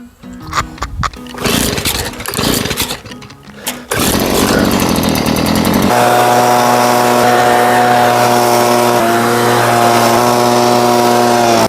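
A weed eater string trimmer runs on a Kentucky bluegrass putting green, first in choppy revving bursts, then settling into a loud, steady, droning whine held at full throttle.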